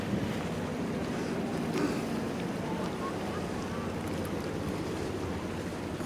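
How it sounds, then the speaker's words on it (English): A broad, steady rumble of large ferries passing in the distance in Sydney harbour area, mixed with wind and water wash, continuous and fairly quiet. "You hear the big boats cruising by."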